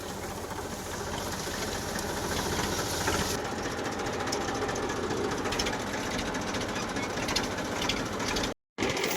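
A tractor engine runs hard with a steady mechanical knock and rattle while pulling a stuck vehicle free outdoors, loud and continuous, and its tone shifts partway through before a brief dropout near the end.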